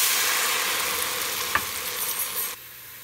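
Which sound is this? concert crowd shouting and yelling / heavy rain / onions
onions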